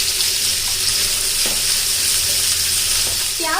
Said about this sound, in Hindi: तो प्याज के लिए मैंने एक पैन में तेल गरम कर लिया है। अब इसमें हम प्याज डाल देंगे